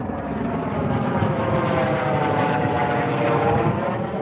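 A loud, steady rotor and engine drone from a helicopter flying overhead, constant throughout with no talking.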